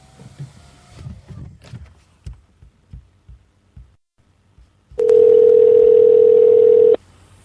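Faint clicks and taps of a phone being handled before a call to a radio show, then a steady telephone dial tone sounds loudly for about two seconds and cuts off.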